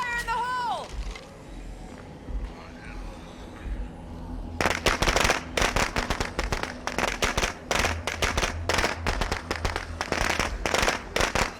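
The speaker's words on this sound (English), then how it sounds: "I think we're gonna use firecrackers here. Fire in the hole!" Video-game firecrackers crackle loudly in a rapid, irregular string of sharp pops and bursts for several seconds, coming after a quieter stretch in which a voice speaks.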